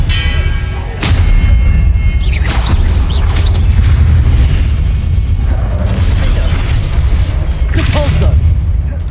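Spell blasts in the video game Hogwarts Legacy: loud, booming impacts and explosive bursts come in quick succession, with crackling magical effects and spoken incantations overlapping the blasts.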